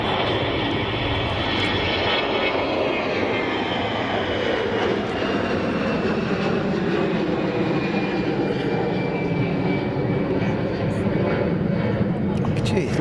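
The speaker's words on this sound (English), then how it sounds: "I can hear something else spooling for takeoff right now" Jet aircraft engines spool up for takeoff at Zurich Kloten Airport, a broad, continuous roar that holds steady and fairly loud throughout, with a voice faintly present over it.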